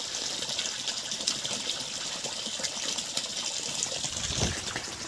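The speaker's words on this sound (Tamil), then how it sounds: "அப்படியே தண்ணி வாய்க்கால் எடுத்துக்கிட்டு இருக்காங்க." Water from a 1700W BLDC borewell pump pours into an irrigation channel on a village farm, a continuous broadband gush and splash heard close and steady without speech.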